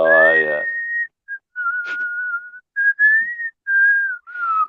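A person whistles a tune into a microphone, clear sustained and gliding notes in short phrases with brief pauses, close and loud, opening with a moment of voice.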